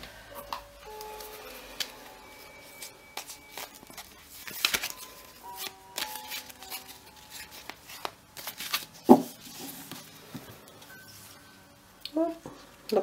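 Atlantis tarot cards shuffled and drawn by hand, with soft papery riffles, slides and taps scattered irregularly through the stretch, close and fairly quiet, with a voice speaking at times among them.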